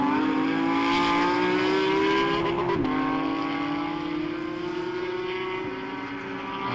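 Race cars at speed on the Jarama circuit during a classic car race, one leader lapping an AM class BMW; loud, steady engine drone with a rising and falling pitch as cars pass, no talk.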